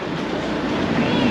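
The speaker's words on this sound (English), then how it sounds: "Today I'm taking a train out to the Batu Caves" A train running on rails out toward the Batu Caves, a steady rumbling ride noise from inside the car, continuous and fairly loud.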